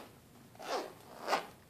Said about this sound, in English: like a zipper opening, right?